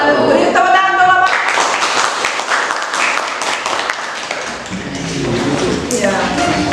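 In a classroom, students clap for a presenting group: a brisk burst of many hands lasting a few seconds, with voices talking before and after.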